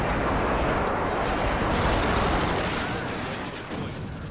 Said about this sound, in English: I call in a precision airstrike on the care package.